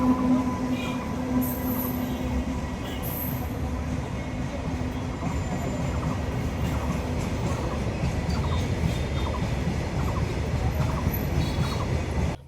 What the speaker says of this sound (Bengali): তো ট্রেন যাওয়া শেষ, এখন গেটটা খুলিতেছে